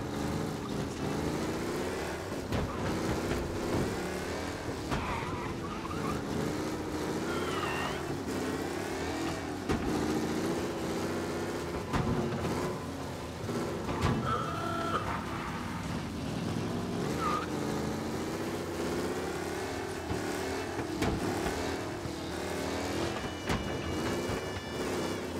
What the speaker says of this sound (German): Den Motor heiß laufen lassen, ne?